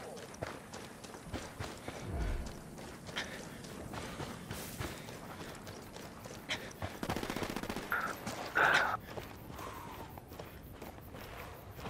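Sniper rifle fire in a first-person shooter video game, heard as scattered sharp shots amid footsteps, clatter and other game noise, with a louder burst near the end.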